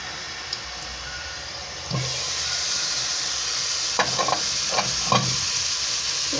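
Fritters of liquid batter fry in a covered pan with a steady close sizzle throughout, joined by a few louder bursts of crackle and clatter as the pieces are turned or the lid is moved.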